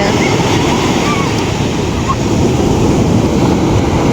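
Ocean waves wash steadily onto a beach, a loud continuous roar of surf with wind buffeting the microphone and faint voices of swimmers mixed underneath.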